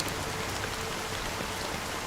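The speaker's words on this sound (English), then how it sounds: "But it's still raining." Steady rain falls in a video game scene, a dense even hiss of drops on surfaces filling the whole stretch at constant loudness, with no voices.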